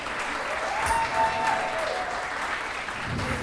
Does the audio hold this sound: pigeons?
no